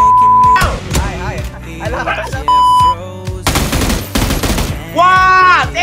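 Sniper and automatic gunfire in a PUBG match, sharp shots in bursts mixed with game beeps and a loud, excited voice shouting over the action.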